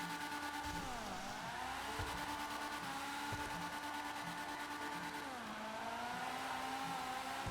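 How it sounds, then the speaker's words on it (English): A car accelerating in GTA Online's Criminal Enterprises update, with a steady, loud engine drone that dips twice as the gearbox double clutches, then climbs again. No other sounds intrude. "it just double clutches, then double clutches again, then double clutches again"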